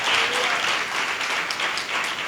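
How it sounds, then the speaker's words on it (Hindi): Audience applause at a church gathering, a steady wash of many hands clapping throughout at moderate loudness, with no voices on top. "हालेलुया, ताली बजाओ।"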